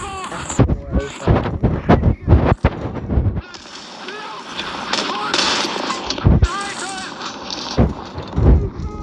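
Artillery shells thump and crack in a tank battle game, a rapid cluster of loud blasts followed by scattered later booms, with a player talking between them.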